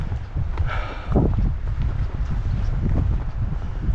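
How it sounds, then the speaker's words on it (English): Cold wind buffets the microphone on a coastal hiking trail along the Strait of Juan de Fuca, a steady low roar with gusts and faint footsteps. "Oh, and the wind is cold."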